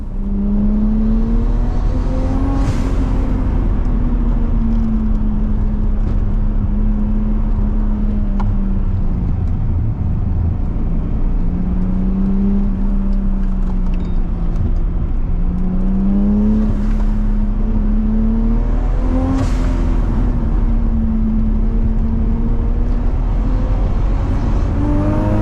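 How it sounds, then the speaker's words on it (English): A Nissan Skyline R32 cruising on a mountain road, its engine droning loud and close from inside the car, with the pitch rising and falling through repeated accelerations, gear changes and brief bursts of intake or wind noise. "we're out cruising the R32"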